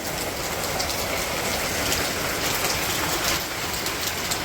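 Heavy rain pours steadily, a dense, even hiss of drops close by with no pauses.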